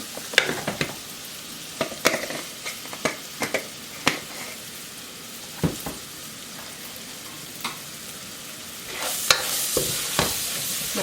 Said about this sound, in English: Going to let that sizzle for a little bit.